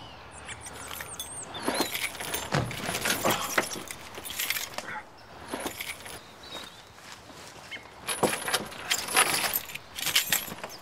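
Car keys jangling in bursts of bright metallic clinks, close and intermittent, with scuffs and movement between them and a faint vehicle hum underneath.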